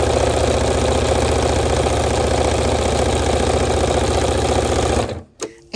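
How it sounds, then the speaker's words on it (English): A Janome sewing machine fitted with an AcuFeed Flex foot stitches across rows of stitching, its rapid, even mechanical chatter running loud and close before stopping abruptly near the end. "as I cross these rows of stitching"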